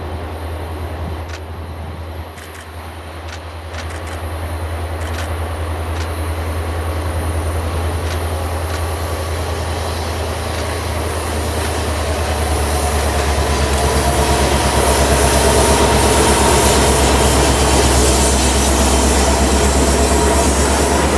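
A Kansas City Southern northbound freight train climbing uphill at Blue Cut, a loud continuous engine drone with rolling wheel rumble and faint clatter that builds steadily as it nears.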